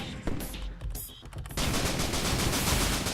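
Rockets in Risk of Rain fire in rapid crackling bursts, sparse at first and then a dense, continuous barrage of explosions filling the second half, loud and close.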